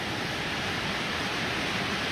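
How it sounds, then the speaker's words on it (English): Rushing mountain creek along the Appalachian Trail near Indian Grave Gap, a steady broadband roar of heavy water flow, fairly close and continuous with no voices. "creek coming down the mountain. Lots and lots of water."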